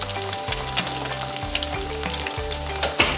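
Breakfast food fries in a pan with a bright, close sizzle, while a low electronic hum pulses in an uneven rhythm beneath it, no one speaking.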